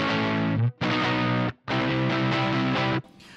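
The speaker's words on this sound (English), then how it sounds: "we get this crunchy, crunchy chunk" A homemade Good Boy Fuzz guitar pedal with its gain rolled back gives a crunchy, chunky distortion: three loud sustained chords, each cut off by a short gap, with no voice.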